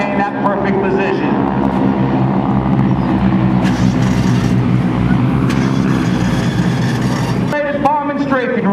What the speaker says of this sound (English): The noise you will hear today is from the changing pitch as the squadron flies by.